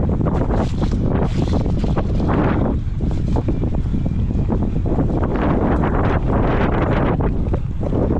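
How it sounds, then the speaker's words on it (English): Strong wind buffets the microphone outdoors during an e-bike ride, producing loud, continuous roaring rumble with gusty surges throughout. "Fucking windy though."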